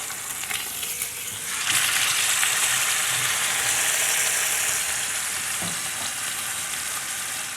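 Pork shoulder rubbed with cayenne, cumin and paprika browns in a hot pot, giving a steady, loud, close sizzle and frying hiss that swells after the first couple of seconds and carries on unbroken with no voices.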